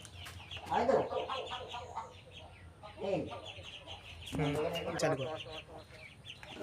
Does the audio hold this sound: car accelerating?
no